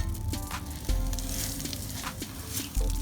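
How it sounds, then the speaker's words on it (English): Steady hissing sizzle of a wet sponge on hot metal, loud and close, with brief sharper pops and bursts of steam throughout. "So you use nice wet sponge, and you can hear it sizzling."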